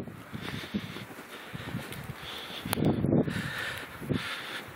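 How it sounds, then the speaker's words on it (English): Wind blowing outdoors during an April snowfall in Minnesota, a faint, steady rushing with soft gusts and light rustling, no talk. "Snowing pretty good out. Wind's blowing."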